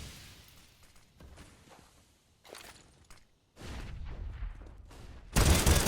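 Gunfire from a Counter-Strike esports match, several bursts of shots, some spaced and some clustered, with a loud burst at the end, heard without talk.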